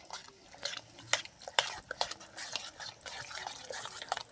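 Cake batter being stirred in a bowl, quiet, with soft wet scrapes and light clicks of the spoon against the side in an uneven rhythm, faint talking underneath.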